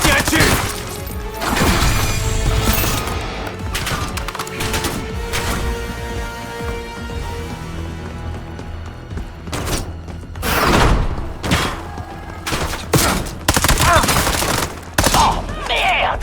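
Gunfire crackles through a war action battle scene, with bursts of rapid shots and heavy thumps coming in irregular clusters, some loud and close, others more distant, mixed with scattered background noise.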